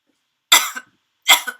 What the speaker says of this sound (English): you know that old lady that keeps coughing?